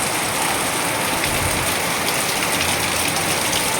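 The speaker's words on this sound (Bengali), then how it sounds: "দেখো বন্ধুরা কত জোরে বৃষ্টি চলে এসেছে দেখেছো" Heavy rain pours steadily, a dense, loud, even hiss of drops on surfaces throughout, with no voices.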